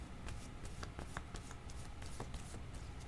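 Tarot cards shuffled and drawn by hand, a quick series of soft papery riffles and flicks over a low steady background hum, close and fairly quiet with no talking.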